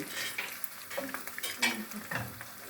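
Browned meat sizzles in a pan while a spoon scrapes and stirs it through tomato paste, giving close, uneven clinks and scraping strokes over a soft frying hiss.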